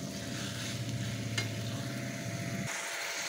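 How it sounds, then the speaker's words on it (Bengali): Cucumber is stir-fried with spices in a pan, a steady close sizzle with stirring scrapes that cuts off sharply near the end. "শসাটা মশলার সঙ্গে ভালো করে কষিয়ে দিয়ে দেব জল।"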